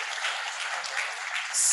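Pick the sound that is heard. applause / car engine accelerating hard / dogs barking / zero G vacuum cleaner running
applause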